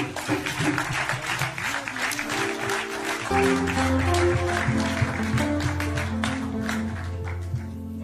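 Steady applause fills a church over a backdrop of instrumental music, clapping continuous and moderately loud throughout.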